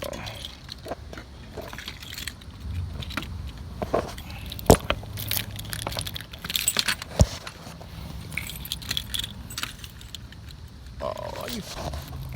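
Keys jingle and rattle close by in short bursts while someone fumbles to open an old semi-truck, with sharp metallic clinks, handling noise and a few brief voice sounds.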